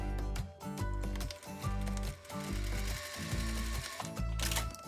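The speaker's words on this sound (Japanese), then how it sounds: "飛び出ている縫い代1センチのところをミシンで縫います。" Sewing machine stitching a 1 cm seam allowance on fabric, a rapid mechanical chatter that runs in short bursts with brief pauses between them, close and clear, with no talk over it.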